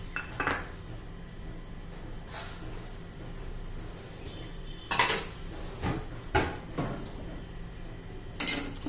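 Semolina (rava) is roasted over medium heat and stirred in a pan for banana sheera prasad. A metal spoon scrapes and clinks against the pan in scattered sharp knocks over a quiet background, with no talking.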